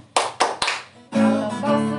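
Children at an online Sunday school clap their hands three times in a quick rhythm along to an action song, followed by a sustained sung melody with music.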